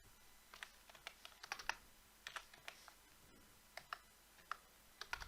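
Fingers typing on a computer keyboard in irregular bursts of sharp, close clicks, with short pauses between runs of keystrokes and no voices.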